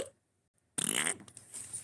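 A person imitates a fart with their mouth after a short silence, producing a loud, buzzing, sputtering raspberry that trails off into softer flutters.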